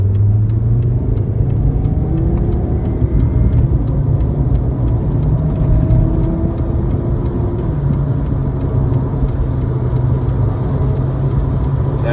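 A 1993 Volvo 850 Turbo T5, converted, accelerates hard from 0 to 100 with a steady, loud engine drone that rises through gears across the whole stretch, heard from inside the car with no talking.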